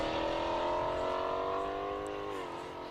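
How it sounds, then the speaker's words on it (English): A Pagani Zonda R race car at speed on a track, its engine a loud sustained howl that holds steady, then drops slightly in pitch as it eases off, with no one talking. "Zonda R. I think you can hear it there in the background."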